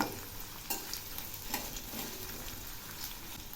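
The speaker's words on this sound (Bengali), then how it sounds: "এখন আমি এর মধ্যে দিচ্ছি 3টে রিং করা পেঁয়াজ।" Three sliced onion rings fry in mustard oil, a continuous close sizzle broken by several sharp stirring scrapes and taps against the pan.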